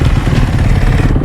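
A motorcycle engine runs steadily up close, a loud, rough low-pitched rumble with a clattering texture that holds even throughout and has no talking over it.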